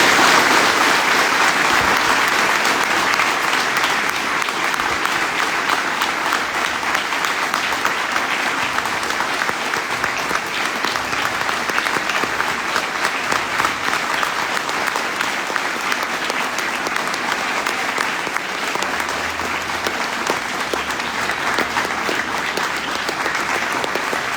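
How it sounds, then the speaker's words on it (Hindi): An audience at a semi-final competition event claps loudly and continuously, a thick, even roar of applause sustained for over twenty seconds without pause. "आपकी तालियां रुकनी नहीं चाहिए"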